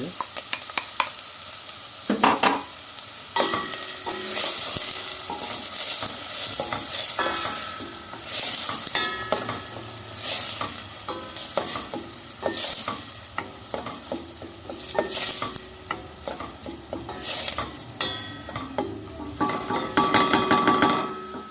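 Onions sautéing in hot oil for Turkish strained lentil soup, a steady close sizzle running throughout with repeated scraping and stirring of a spoon against the pot and occasional utensil clinks.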